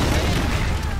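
A grenade blows up in Call of Duty Black Ops, a dense, loud rumbling blast that fills the whole moment with broadband roar and no quiet gap.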